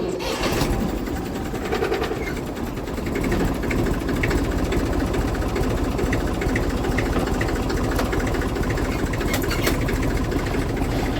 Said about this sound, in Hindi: अब ट्रैक्टर स्टार्ट कर लेते हैं फटाफट।